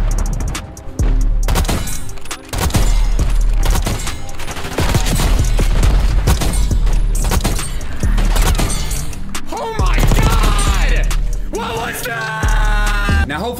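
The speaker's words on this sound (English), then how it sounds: "hopefully you guys were able to see what I meant with the pop shotting with the LW3A1" Rapid sniper shots from an LW3A1 rifle in Black Ops 6, loud cracks fired in quick succession over dense gunfire and game effects, with bursts of noise throughout and brief tonal chimes near the end.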